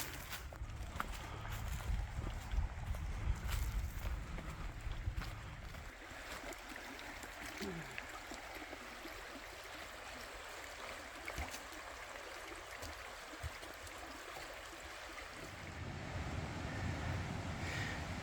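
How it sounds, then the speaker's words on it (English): A small creek flows along a hiking trail in Madison County, Arkansas, its steady gurgling rush mixed with wind buffeting the microphone and a few footsteps, fairly faint and without talk. "We're going to get back down to this little creek over here"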